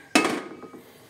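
A ladle knocks against a pan while mixing ampalaya with egg: one sharp, close metallic clack, then a few softer scraping taps that quickly die away.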